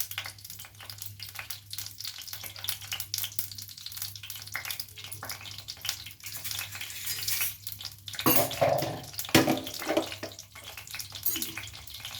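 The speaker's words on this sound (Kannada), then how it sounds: "ಸ್ವಲ್ಪ ಸಾಸಿವೆ ಸಿಡಿಲಿ" Mustard seeds splutter and crackle in hot oil in a pan while cooking brinjal gojju, a steady frying hiss with denser popping bursts toward the end, close and without talking.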